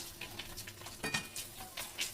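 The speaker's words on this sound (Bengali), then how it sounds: "খুব সুন্দর আলুগুলো ভেজে নিয়ে আসছি।" Potatoes frying in a pan for a snakehead fish recipe, crisping in oil with a soft sizzling hiss and occasional utensil clinks and stirring, close by with no voices.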